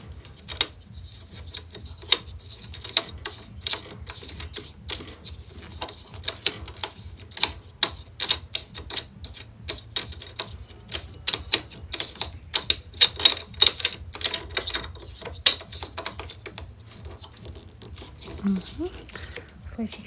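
Bolt being screwed in by hand while assembling a Bosch ARM 37 electric lawnmower: a long run of close, sharp clicks and ratcheting ticks, irregular in rhythm, over a low steady hum.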